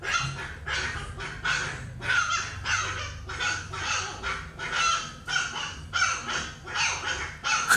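A litter of Shiba Inu puppies yaps repeatedly in quick, squeaky barks at a regular rhythm. The barks are close and fill the whole stretch.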